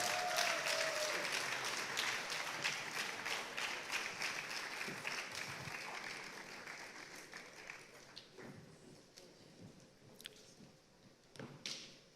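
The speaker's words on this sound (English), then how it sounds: "Let's appreciate him with a warm round of applause as he steps down." Warm audience applause at the Nigerian Economic Summit closing plenary, sustained clapping from a large crowd that gradually thins out into scattered claps and thumps.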